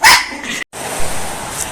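An excited dog barks in a loud, close burst at the start, then falls silent for a brief gap before a steady indoor background continues, with the dog stirred up as a family gets ready to head out for a forest walk.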